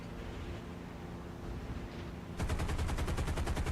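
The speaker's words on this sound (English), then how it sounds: "I have plenty of machine gun ammunition, so I can just keep firing away at range" In the War Thunder flight game, a P-38G's machine guns open up over steady engine drone, a loud rapid rattling burst starting partway through and continuing to the end.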